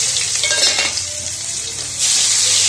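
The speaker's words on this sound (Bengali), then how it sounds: "এবার কালো জিরে দিয়ে দেবো তেলের মধ্যে, আর কুচনো পেঁয়াজ দিয়ে দেবো" Black cumin seeds and chopped onion hit hot oil in a pan while making a pabda fish curry with coconut paste, giving a loud, steady sizzle that surges briefly near the end.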